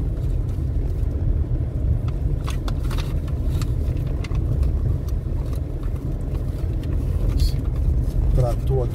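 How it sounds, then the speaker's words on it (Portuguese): A tractor works close by at a roadside concrete construction site on the RN-226 near Macaíba, Rio Grande do Norte, giving a steady, heavy low engine rumble throughout, with occasional clanks and someone talking over it. "Trator aqui trabalhando aqui do lado."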